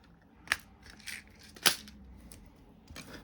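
Scissors snip open small plastic bags of screws for a 1:8 scale DeLorean model kit, with two or three sharp, quiet cuts amid soft rustling.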